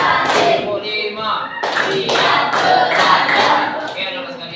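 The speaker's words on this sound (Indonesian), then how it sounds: "Kita tepuk lagi. Tepuk 1, tepuk 2, tepuk 3, tepuk 4," A classroom of children claps together in a counted pattern, with a series of short group claps over a steady chatter of young voices and a teacher talking.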